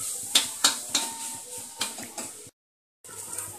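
Amla roasts in a pan as a spoon stirs it, giving a series of sharp metallic clinks and scrapes, loud and close, then a brief silence and faint hiss.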